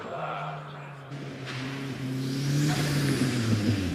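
A four-wheel-drive hill climb car accelerates hard through Tom Roke corner at Prescott, its engine note rising steadily and loud as it pulls toward the finish, with no voices over it.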